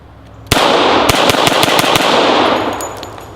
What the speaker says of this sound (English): I'm going to go ahead and shoot it into that burn barrel right there as fast as I possibly can